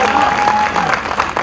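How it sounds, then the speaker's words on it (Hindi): Audience applause breaks out at a Mumbai launch event for a music tours and travels company, steady dense clapping with a faint crowd murmur and a sustained tone running underneath. "जोरदार तालियां"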